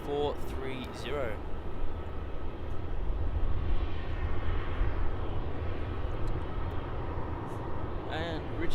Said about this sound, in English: Stunning takeoff there from that JQ A321 Neo.